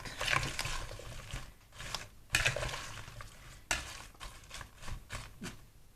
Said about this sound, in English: Scrape that in. Mix it all up.